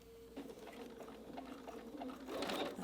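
Sewing machine stitching a jelly roll tote: a soft run of rapid rhythmic needle clatter, fairly quiet and steady, getting a bit busier toward the end.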